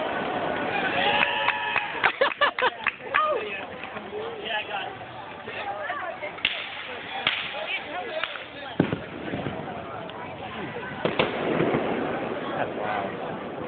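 Fireworks bang and crackle in rapid bursts and scattered pops at a distance at a July 4 lakeside display, with people talking and reacting throughout.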